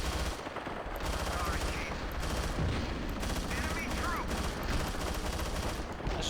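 Sustained automatic gunfire from the Battlefield 2 video game, dense overlapping bursts of rifle and machine-gun shots running continuously and loud throughout, with battlefield din underneath.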